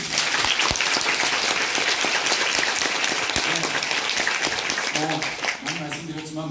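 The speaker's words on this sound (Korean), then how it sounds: "이하 많은 스태프분들께 특별히 뜨거운 박수 다시 한번 부탁드립니다." A theatre audience applauds after a performance of the musical Red Book. The clapping is dense and steady and holds throughout, then thins near the end as a voice speaks over it.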